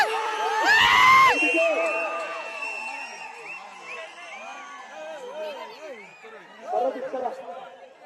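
A crowd at a bull race cheers and whoops, loudest at the start and swelling again near the end. Shouting voices and chatter carry through throughout.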